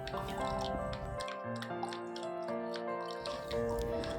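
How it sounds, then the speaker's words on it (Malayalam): Liquid dripping and trickling through a strainer as ground chili-ginger paste is pressed, with soft squishy pressing sounds and faint musical tones in the background. "അതിനെ അരിച്ച് ഇതുപോലെ നമുക്ക് അതിൻ്റെ വെള്ളം കിട്ടണം"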